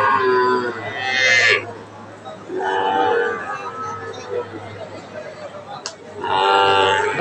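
Calves and cattle low at the Aftabganj cattle market: three drawn-out moos at the start, middle and end rise over a steady crowd murmur and low rumble.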